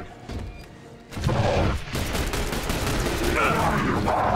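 Sustained gunfire and heavy booming impacts in the video game The Bureau XCOM Declassified, starting sparse, then a loud continuous barrage of overlapping shots and blasts.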